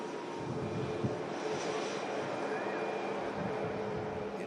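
A British Airways airliner on approach into Heathrow gives a steady, moderately distant engine drone with a faint whine, holding level throughout with no talk over it.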